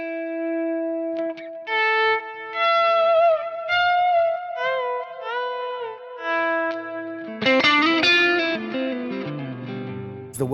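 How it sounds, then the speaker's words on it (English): An electric guitar runs through a Keeley Halo Dual Echo pedal set to a dotted-eighth delay, with sustained notes and short phrases trailing rhythmic repeats and a lush wash, ending in a busier, louder strummed passage. "the echo, that's that dotted eighth quarter note kind of thing"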